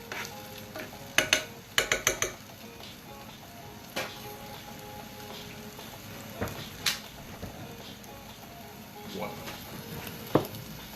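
Food fries in slow, medium-hot oil as the base for a barbecue sauce, a faint, steady sizzle broken by sharp pops and crackles that come in brief clusters.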